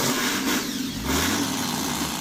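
Truck engine in SnowRunner cranking and catching, then settling into a low steady rumble with a slight rise in revs, heard alone with no talk.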